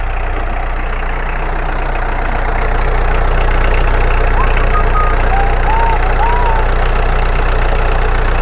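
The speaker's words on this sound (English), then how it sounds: "harmonious rumblings of a 305, 309 turbo diesel" Iseki tractor with a small 305/309 turbo diesel engine running at a steady idle, a continuous low rumble that holds level throughout with faint higher tones above it.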